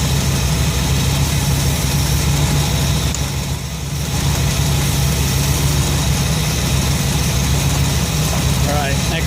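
A Ford 302 V8 in an F100 pickup idles steadily and loudly up close, a constant low rumbling drone that dips briefly partway through before settling back.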